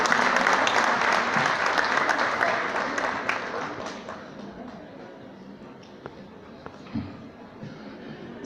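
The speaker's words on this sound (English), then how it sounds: "Please clap for her, clap for her." Hall audience at a 2016 graduation ceremony at the Palais des Congrès applauds a student, loud, dense clapping at first that gradually thins and fades to scattered claps.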